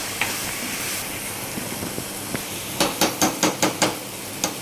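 Taro (chamagadda) curry stirred in a pan, a soft continuous frying hiss broken by a quick run of sharp spoon or ladle knocks against the pan near the end, with no talking.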